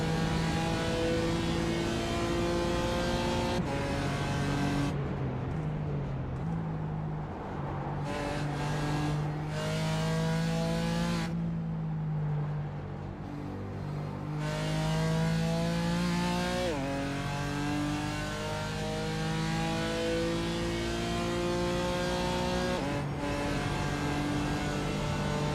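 Race car engine in a 24-hour Nürburgring endurance race, revving hard and high through the gears with repeated rising pitch sweeps and brief dips at shifts, loud and continuous from the cockpit.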